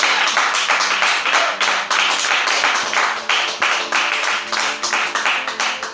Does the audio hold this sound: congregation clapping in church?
yes